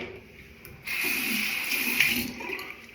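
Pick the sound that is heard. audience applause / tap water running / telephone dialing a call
tap water running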